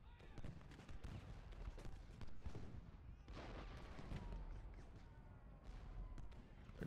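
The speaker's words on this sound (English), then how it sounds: "Big volley from Stewart here" Musket volleys rattle in the Ultimate General: Gettysburg battle game, with dense overlapping pops and booms rolling continuously at a moderate distance under a low background rumble.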